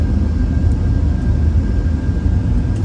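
Boeing 747 engines roar at takeoff thrust during a crosswind takeoff, a dense, steady rumbling drone heard loud and continuous from the cockpit.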